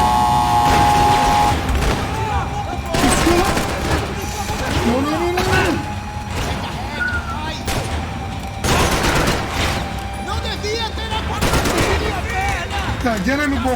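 Bursts of gunfire from the video game Max Payne 3, with rapid fusillades and single shots recurring loudly across the scene over game noise, while someone talks excitedly throughout.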